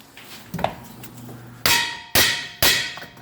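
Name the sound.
hammer striking ball joint on 2008 Nissan Maxima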